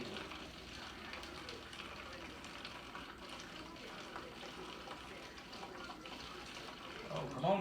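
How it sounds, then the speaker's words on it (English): Alcohol poured slowly into a container while making hand sanitizer, a steady liquid rush that grows louder at the end, with people talking over it. "So we're just gonna pour that in there real slow."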